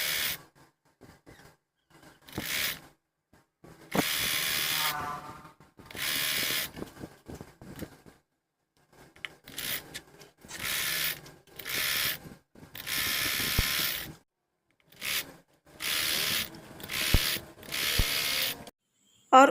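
A sewing machine stitches a blouse yoke strip in quick mechanical bursts, each run a close whirring clatter lasting a second or two, separated by short pauses and small handling clicks, with no speech.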